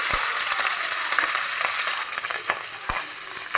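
Cooked rice hits hot oil in a pan for mixed fried rice, giving a loud, steady hissing sizzle up close with a few sharp clicks of the spatula stirring, and no talking.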